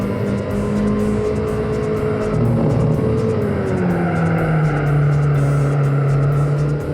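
A car engine drones loud and close from inside during a fast hot lap on a race track, pitch sliding down and up through gear changes and corners, with no talk.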